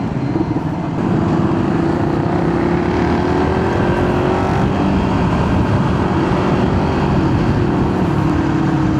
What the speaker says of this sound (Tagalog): Naninibago ako doon sa tunog ng motor ko.